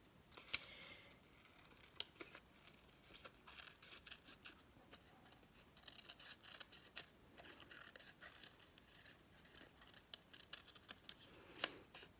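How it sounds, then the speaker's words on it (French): Scissors cutting paper down to a smaller piece, faint close snips scattered irregularly through a quiet room, with light rustling of paper between cuts and no talking. "Je vais le couper un peu plus petit."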